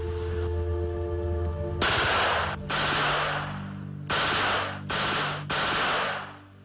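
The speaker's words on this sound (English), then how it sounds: "This is a Czechoslovakian-made Scorpion machine pistol. It's capable of firing at a rate of" Czechoslovakian-made Scorpion machine pistol firing several sharp, loud automatic bursts in fairly quick succession, each a dense crackling rattle lasting under a second, with short gaps between them.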